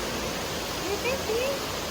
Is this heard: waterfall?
yes